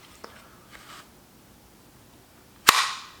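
A pistol is yanked out of a tight Vedder LightTuck holster, giving one sharp, loud snap of release after a few faint handling rustles, with nothing else around it.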